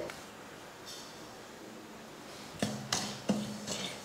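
A kadai set down on a stove, quiet room tone and then three or four close metallic clanks and knocks of the pan against the burner.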